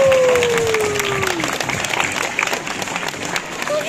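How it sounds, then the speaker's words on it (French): A zoo crowd applauds steadily after a sea lion's trick at an open-air show, a broad wash of clapping from many hands lasting throughout, with a brief whistle-like tone gliding down early on. "Et on peut encore une fois l'applaudir à Nelly et la poubelle."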